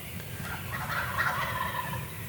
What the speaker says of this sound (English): the gobblers are going crazy